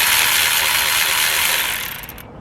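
A hand ratchet clicks steadily as it tightens a 17 mm starter mounting bolt on a 1999-2003 Acura TL, a continuous close, rapid clatter that thins out near the end.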